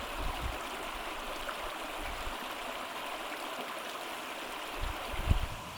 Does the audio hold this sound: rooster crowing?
no